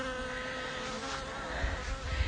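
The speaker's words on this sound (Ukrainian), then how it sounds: "Бджілки працюють, запахи." Bees buzz close by around blooming peony flowers in a garden, a steady insect drone with a faint low rumble rising toward the end, with no voices.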